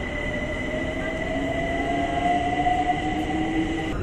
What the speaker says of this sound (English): Say bye-bye, train.